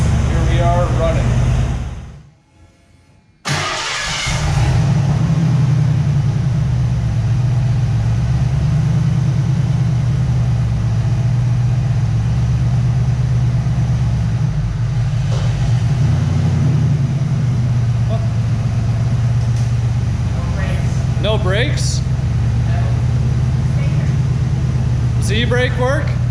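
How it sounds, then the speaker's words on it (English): A 1986 Ford Mustang GT engine, its first start in over ten years on a one-owner car, idles with a steady low rumble after a brief dropout, with a few faint higher noises near the end. "Here we are running."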